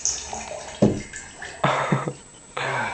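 A toilet flushes with gushing, splashing water in a few surging bursts, close and moderately loud, the rush of water rising and falling without any talk.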